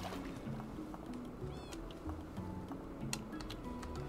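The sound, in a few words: cat meowing in Minecraft video game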